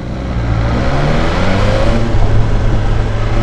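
A 2020 BMW S1000XR motorcycle engine revs loudly and close up, a sustained, steady roar for the whole stretch with slight swells, with no talk over it.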